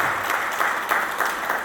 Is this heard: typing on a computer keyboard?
no